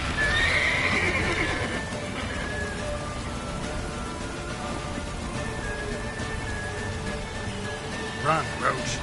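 In The Witcher video game, a horse gallops with rapid clip-clop hoofbeats and lets out a neighing whinny, with rain-like background noise and talk over it.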